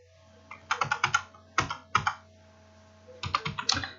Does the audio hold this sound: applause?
no